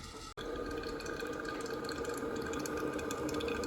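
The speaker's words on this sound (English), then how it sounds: "it's clearly boiling now and spraying water out of that tiny spout" A Biolite KettleCharge camp kettle boils hard, spraying water from its tiny spout in a steady, dense hiss and bubbling roar that runs on without a break after a brief dropout at the start.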